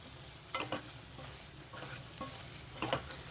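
Spice powders being stirred into an egg and drumstick curry, with soft frying sizzle underneath and several distinct scraping strokes of a spoon against the pan, quiet and close.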